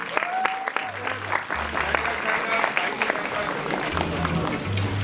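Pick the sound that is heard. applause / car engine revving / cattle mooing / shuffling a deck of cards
applause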